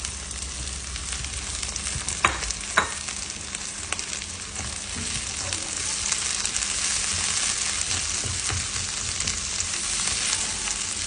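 Green peas and corn frying with rice for vegetable fried rice, a steady close sizzle throughout with a couple of brief scrapes early on, no voices.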